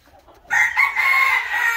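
A fighting rooster, a gamecock kept for training, crows once, loud and close, in a single sustained call after a brief quiet start, with no talk over it.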